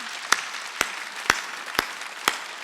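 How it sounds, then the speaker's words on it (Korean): Five evenly spaced, sharp claps ring out in a steady rhythm from a church congregation during a Sunday worship service, over a faint background hum. "박수 치고 박수"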